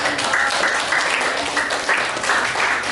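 A crowd applauds steadily throughout, a dense wash of many hands clapping with no pauses.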